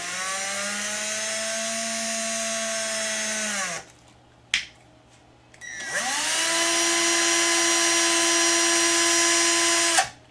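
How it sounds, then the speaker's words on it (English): A power drill with a number 29 bit whines steadily at high speed while drilling a hole in a power inverter, stops briefly with a couple of clicks, then spins up again and runs until the end. "we're going to go ahead and drill this out with the number 29 drill"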